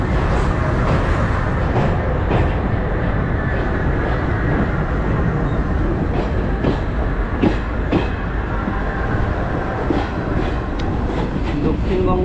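A Kolkata Metro train rolls past nearby, loud and sustained, its wheels clicking rhythmically over rail joints as the rumble holds steady throughout.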